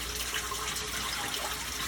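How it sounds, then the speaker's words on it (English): Cooking oil drains out of a Royal commercial fryer through the filter hose of an Ultra Plus filtration system, giving a steady, continuous liquid rush that stays even and close for the whole stretch with no talking. "You'll see the oil is flowing out of the hose."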